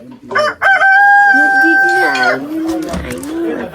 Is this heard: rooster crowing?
yes